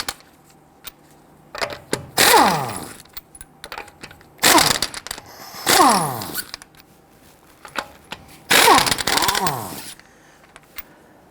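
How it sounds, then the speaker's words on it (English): Three loud bursts of an impact wrench spinning off 21mm lug nuts on an Infiniti G37 X, each a couple of seconds long with a rising-then-falling whine and short quiet gaps between. "Using a 21mm socket, loosen and remove your lug nuts."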